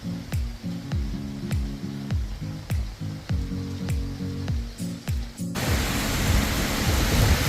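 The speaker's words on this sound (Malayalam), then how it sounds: "നല്ല അടിപൊളി മഴയാ" Rhythmic low tones with soft clicks play at first, then a sudden loud, steady roar of heavy rain takes over, at a hut on a work site.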